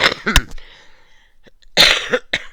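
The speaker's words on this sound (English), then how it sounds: "The problem with the cough that you get is that, like, there's no satisfaction to it." A person coughing harshly indoors: a short burst of close coughs at the start, a faint throat sound in the middle, then a louder cluster of coughs near the end.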